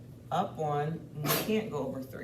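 A sharp, sudden sneeze bursts out midway through calm spoken explanation, close and brief between the speaker's words.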